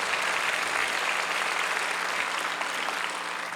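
Sustained applause from a crowd at an outdoor peace-unification prayer rally, a steady wash of clapping hands at even loudness throughout, with no voices rising above it.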